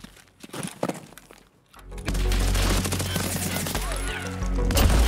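Gunfire in Escape From Tarkov on city streets: a few scattered shots and thuds, a short pause, then a loud sustained burst of rapid automatic fire with heavy low rumble close by.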